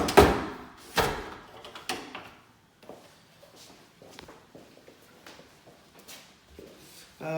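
A house door or window is opened with a loud latch clack and thump at the start, followed by scattered lighter knocks, slides and rattles of hardware and footsteps in a quiet room.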